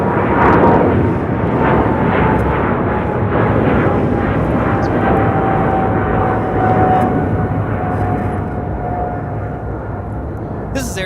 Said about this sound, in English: This is Air China 988, taking off to Beijing on a 777-300ER.